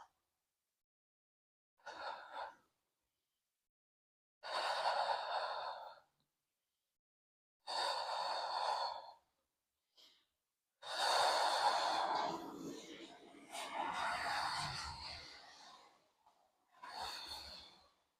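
Deep breaths during a postpartum Pilates core exercise: several separate breathy inhales and exhales at a slow, paced rhythm, close and clear, with no talking.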